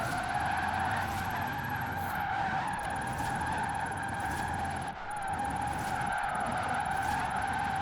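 A fast electric car drifts in Forza Horizon 4, its tyres skidding and squealing in a loud, sustained screech with a steady engine whine. The squeal briefly breaks off and then resumes.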